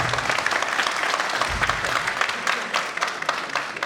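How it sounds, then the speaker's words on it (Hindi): Audience applause at a ballet festival performance, a steady dense wash of clapping throughout, loud and sustained with no voices over it. "तालियां बज रही हैं भाषण बंद करने के लिए"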